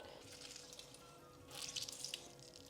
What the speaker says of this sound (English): So squeeze the moisture out, but you can keep the water for kind of the curry.